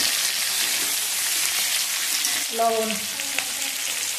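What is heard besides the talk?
frying potatoes with spices in a pan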